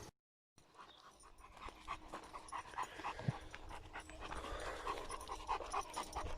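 A female dog pants steadily at close range, quick rhythmic breaths over a busy outdoor background, after a brief silent moment at the start.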